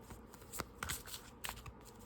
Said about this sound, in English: Then I'm going to shuffle this for you guys.